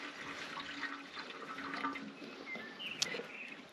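Degreaser solution sloshing around inside a small fuel tank from a 1939 Caterpillar D4 pony motor, a faint, continuous watery swirling and gurgling with one brief sharper splash near the end.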